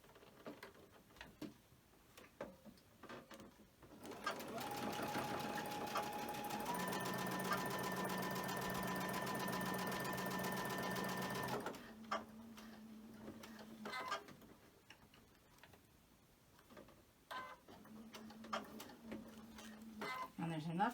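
A sewing machine chain-stitches quilt pieces for a picnic quilt, running steadily for about seven seconds at a moderate level. Two shorter bursts of stitching follow, and a voice talks in the quiet stretches around them.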